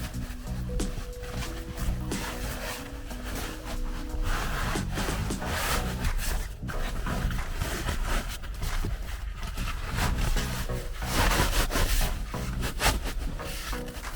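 A fabric seat cover, turned partly inside out, is tugged and twisted down over the rear seat back of a 2022+ Toyota Tundra, making continuous close rustling and rubbing with scattered soft thumps.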